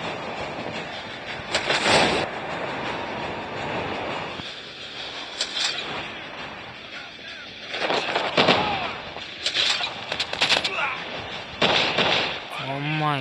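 Gunfire in the video game Call of Duty: several loud, booming bursts of shots spaced across a noisy battle ambience, some close and heavy, others trailing off.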